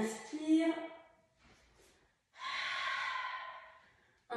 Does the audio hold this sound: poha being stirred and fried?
no